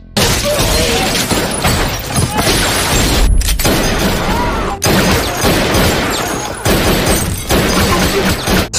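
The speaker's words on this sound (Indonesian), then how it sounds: "hingga baku tembak pun terjadi" A film gunfight inside a building, with dense, loud bursts of gunfire, crashes and impacts filling the scene almost continuously, broken by a few brief pauses.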